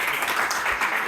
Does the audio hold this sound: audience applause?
yes